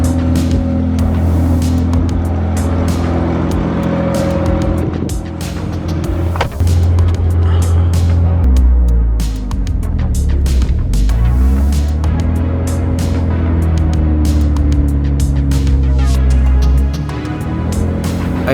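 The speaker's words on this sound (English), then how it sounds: "I pulled the car back in" A BMW E28 under rust restoration rolls slowly into a small garage, its engine droning loud and close with a rising, shifting tone as it moves, then settling toward the end.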